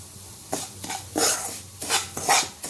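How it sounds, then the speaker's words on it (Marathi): Moong dal roasting in ghee over a low flame, stirred with a spoon in a pan: a series of soft scraping, clinking strokes, close and moderately loud, with a faint sizzle underneath. "बारीक गॅसवरच आपल्याला हे भाजत राहायचंय"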